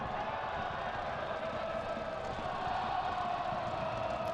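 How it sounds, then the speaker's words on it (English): Football crowd singing in the Fresno stadium at a USL Championship playoff match between Fresno FC and El Paso Locomotive FC, a distant and steady wash of massed voices that carries on without a break. "Crowd still singing, giving them plenty of support, Fresno"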